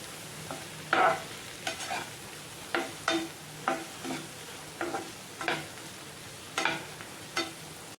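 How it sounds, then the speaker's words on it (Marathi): Turmeric is stirred into seasoning in a pan for vermicelli upma, a soft sizzle broken by a dozen or so light, regular scraping strokes of a spoon against the pan. "आपण आता याच्यामध्ये हळद टाकूया आणि आपण आता हे छान मिक्स करून घेऊया"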